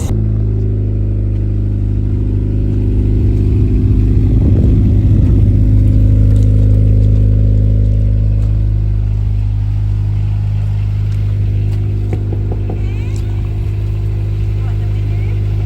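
A wrecked 25-year-old Honda engine rumbles steadily through its exhaust, loud and close, with a brief swell of revving partway through. A voice speaks briefly over it.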